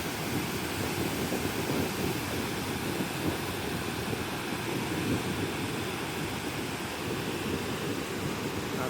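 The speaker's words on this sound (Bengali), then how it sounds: "এই যে দেখেন কত নিচে পড়তেছে পানি" Niagara Falls on the American side, water plunging a long way down, a steady broadband roar that stays even and continuous throughout, with no voices over it.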